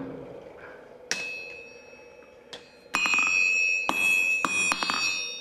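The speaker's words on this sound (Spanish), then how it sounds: "estirar el hierro a base de golpes alternos con el mallo y con el martillo" Hammer and sledgehammer take alternating blows on hot iron over an anvil, drawing out a long point to shape a hook for a hand-forged woodcutting tool. About half a dozen loud, ringing metallic strikes land close by, with sustained bright clangs.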